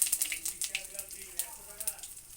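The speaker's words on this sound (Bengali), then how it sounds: "এখন এখানে জিরে ফোড়ন দিয়ে দিলাম, তেজপাতা দিলাম" Cumin seeds and a bay leaf sizzle in hot oil after potatoes have been fried red, while a chicken curry is being made. Steady crackling and spitting pops come in quick irregular bursts, close by and fairly soft.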